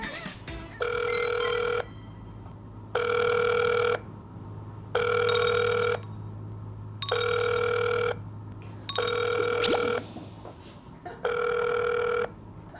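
A telephone rings six times in an even rhythm, each ring lasting about a second with short pauses between, loud and close.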